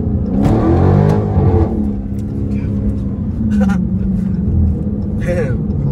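A Dodge SRT 392 V8 engine revs hard as the driver floors it, with a deep, loud roar that rises and then falls back, under people talking inside the car.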